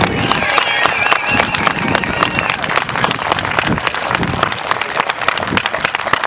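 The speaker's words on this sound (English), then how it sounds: "how about a big round of applause for those who are currently serving and those who have served in the past" A crowd at a political rally gives a big, sustained round of applause for serving military members and veterans, loud and dense clapping with some cheering mixed in.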